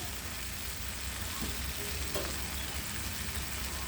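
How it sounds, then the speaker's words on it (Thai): Tomatoes stir-frying in a hot pan, a dense, steady sizzle close up with a couple of faint spatula knocks partway through. "ผัดไปเลยค่ะ"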